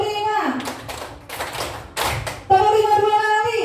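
Rhythmic hand clapping from a group clapping exercise, several quick bursts of claps between stretches of a voice chanting the count, with the talking loud and close.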